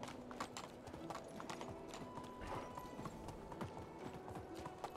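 Horse hooves clip-clopping steadily while being ridden in the Medieval Dynasty video game, a quick continuous trot rhythm with faint background sounds, heard alone.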